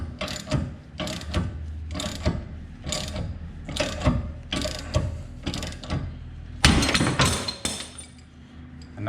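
A ratchet wrench tightens a bolt while camber arms are fitted to an Acura TSX, producing rapid metallic clicking in repeated short bursts with a steady rhythm, fairly close and clear.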